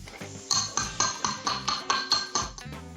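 Spices pounded with salt in a mortar for a tadka, about ten sharp ringing metallic thuds in a steady rhythm, close and moderately quiet.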